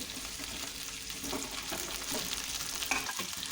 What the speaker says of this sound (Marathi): आता मी सर्व वांगे तेलामध्ये सोडून घेते